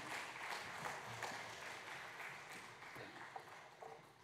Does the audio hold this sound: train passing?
no